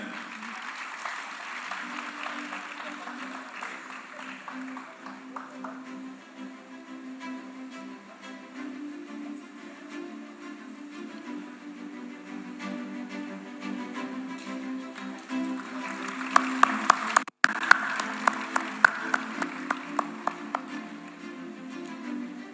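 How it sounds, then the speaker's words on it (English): A ceremony audience at a film festival opening applauds steadily for over twenty seconds, a dense continuous patter of many hands at moderate volume, swelling slightly louder near the end with a few sharper claps. "Round of applause, ladies and gentlemen."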